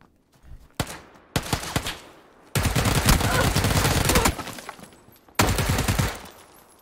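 Gunfire in PUBG on the Vikendi snow map, played on Xbox One X: a few close single shots, then a long burst of rapid automatic fire, and a final sharp volley.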